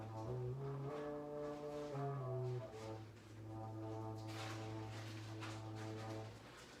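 Fujara overtone flute droning on a very low fundamental A, a deep breathy sustained tone with overtones, played close and alone, shifting pitch briefly before settling into one long held note.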